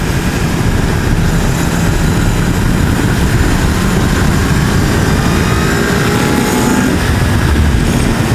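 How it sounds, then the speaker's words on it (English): Strong wind buffets a rider on a motorbike in gusty conditions, a loud constant roaring rush with no pauses, filling the whole stretch. "I'm definitely not loving this wind though."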